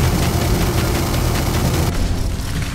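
An explosion in the post-apocalyptic Soviet video game Ashes of the Union: a loud, dense, roaring blast holds for about two seconds, then thins into a quieter fading rumble.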